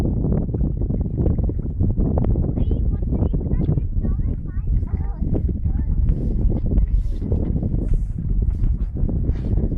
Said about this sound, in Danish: Der er så meget vind